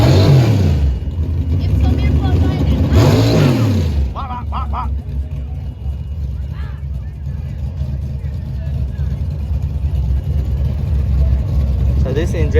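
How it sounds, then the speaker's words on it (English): A supercharged Gen 3 HEMI with Holley EFI in a Mustang, a loud, deep throbbing engine that swells in two revs early on, then settles to a rough idle while people talk over it. "oh my goodness, Gen 3 HEMI with a blower"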